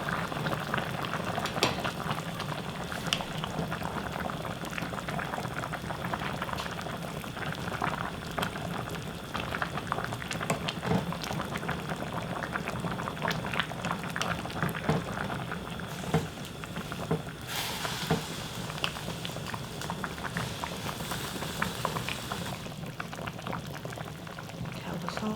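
Soft tofu stew (sundubu-jjigae) bubbling away in a pot, a continuous low, soft simmering gurgle with small pops and splutters, steady throughout and close by.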